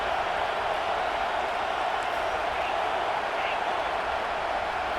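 Stadium crowd in a football video game, a steady broad roar of fans sustained at even loudness throughout, like continuous background noise without distinct cheers or claps.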